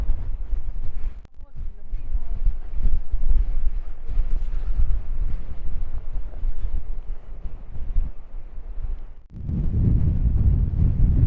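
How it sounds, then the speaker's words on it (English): Strong wind on a coastal cliff on Anglesey, North Wales, roars and buffets the microphone continuously, with heavy low rumbling gusts that surge louder near the end. "Woo, it's very windy on here."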